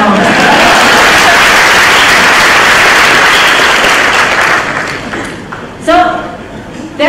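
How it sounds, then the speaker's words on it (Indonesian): Loud, dense audience applause at a university public lecture, many hands clapping steadily for several seconds before fading out, followed by a speaker resuming under a bit of lingering noise. "Tepuk tangan dong."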